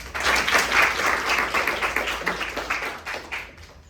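Audience applause in a college classroom: a dense round of clapping from a group, steady and close for several seconds before thinning out at the end.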